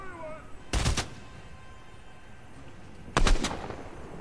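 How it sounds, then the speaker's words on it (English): Gunfire in the video game Fortnite: two separate bursts of sharp, loud shots, one near the start and another about two and a half seconds later, with quiet game ambience between them. "Hold on, let me shoot that guy."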